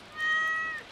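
A cat meows once in the Stardew Valley video game, a short high-pitched meow heard alone over quiet background noise.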